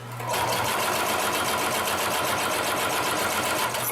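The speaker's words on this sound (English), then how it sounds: "we're sewing through relatively thick material" A Consew 733R-5 extremely heavy duty industrial sewing machine stitches through a thick stack of leather, starting abruptly and running with a loud, rapid, even mechanical chatter close by.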